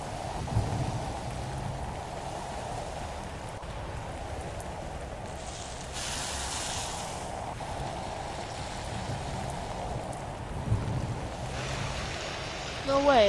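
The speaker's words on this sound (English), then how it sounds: "Is that acid rain?" Steady rain hiss with low rumbles in the video game Roblox, acid rain and thunder falling throughout, a louder wash midway and brief rumbling bursts near the end.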